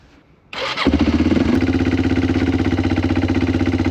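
A cheap, formerly broken ATV engine cranks and catches, then settles into a loud, steady, rapidly pulsing idle close by, with no talking.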